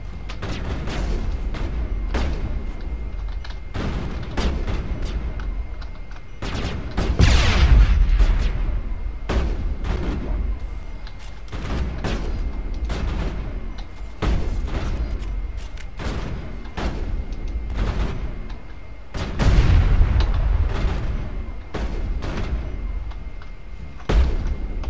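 Gunfire and heavy booms in the video game Mass Effect, repeated shots and thudding impacts in an uneven stream, loud and close, with brief louder bursts throughout.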